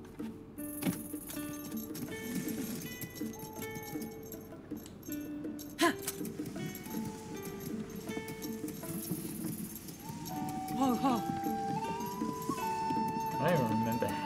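A horse trotting in the video game Zelda: Tears of the Kingdom, with rhythmic hoof clip-clops and light jingling under a person talking over game music, growing a bit busier near the end.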